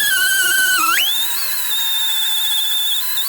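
A rotary grinding stone porting a cast iron intake manifold on a 1964 Dodge Custom 880, giving a loud, sustained high-pitched whine that dips briefly as load comes on, then climbs and holds steady.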